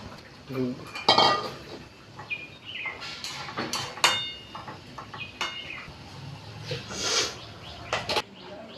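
Fried cauliflower pieces are tipped into a pot of boiling gravy, with close metallic clanks and clinks of a utensil against the pot, soft splashes and bubbling between them, and brief voices in the background.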